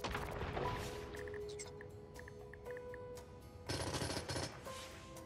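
Road blocks being demolished in SimCity 5, a run of crunching, crashing destruction bursts with clicky interface blips, quieter in the middle and swelling into a loud final crash near the end.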